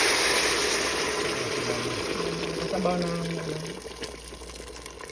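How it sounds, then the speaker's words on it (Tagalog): Hot water pours into a pot of pork belly sinigang with tomatoes and onions, making a steady broad rushing splash that slowly thins out, while someone speaks over it. "Lagyan natin ng mainit ng tubig guys."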